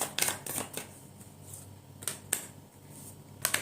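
Tarot cards being shuffled and picked, a few quiet crisp flicks and card snaps in short bursts, close by with no talk.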